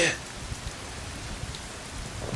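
Steady falling rain in the Metal Gear video game during a boss battle scene, a dense, even hiss of drops running through the whole stretch at moderate level with no voices.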